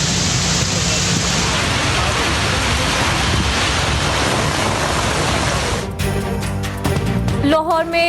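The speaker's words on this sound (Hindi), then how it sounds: "गुलशन इकबाल यूनिवर्सिटी रोड बहादुराबाद में तेज बारिश" Heavy monsoon rain pours down in Karachi, a dense, loud, steady hiss filling the scene for several seconds before cutting to other background sounds and voices.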